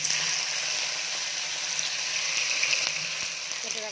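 Sliced eggplant sizzles as it is stirred into onions already frying in a pan, giving a steady, bright hiss that carries on evenly throughout.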